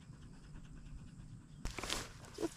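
A dog on a forest trail at Seminole State Forest pants in quick, rhythmic breaths, close by amid outdoor rustling, with footsteps and a louder burst of movement partway through.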